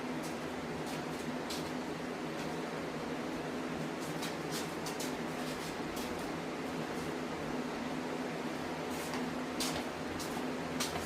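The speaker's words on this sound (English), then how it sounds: "Sorry about the fan noise." A fan in a warm garage workshop during a 1990 Chevy OBS 350 engine teardown, giving a steady, even whir that runs unbroken throughout, with faint clicks and knocks of work over it and no talking.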